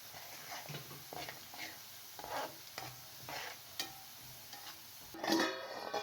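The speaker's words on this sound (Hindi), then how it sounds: "इसके अंदर ज़ीरा और कश्मीरी लाल मिर्च शामिल कर दें।" Cumin and Kashmiri red chili sizzle in hot oil with frying onions as a spoon stirs in repeated scraping strokes, close and fairly quiet, ending in a brief louder burst of crackling; someone talks over it.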